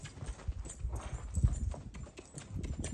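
A tame mare's hooves clip-clop on hard ground at a livestock auction, an irregular run of close, moderately loud hoof strikes with faint background murmur.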